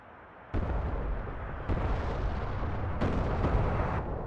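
Video game explosions during a base attack: three heavy booming blasts, each following the last and sustaining into a loud, continuous rumble with no pause between them.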